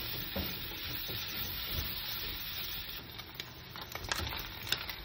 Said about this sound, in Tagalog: Ganito ako magluto ng spam, guys. Walang mantika.